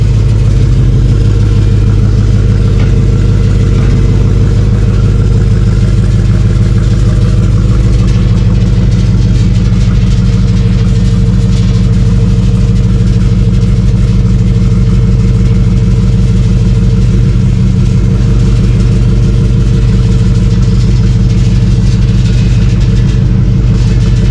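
A 2003 Ford Lightning truck engine runs with a replaced exhaust, a loud, deep, continuous rumble close up with a steady throb that barely varies throughout, and no talking.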